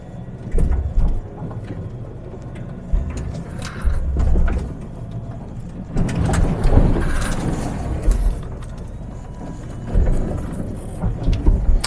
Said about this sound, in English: It's really fun to drive this Ranger Raptor